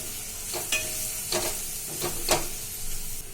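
Ridge gourd seasoned with chilli powder is sautéed in a pan, giving a soft, even sizzle broken by four or five distinct scraping stirs of a spatula against the pan, with no voices.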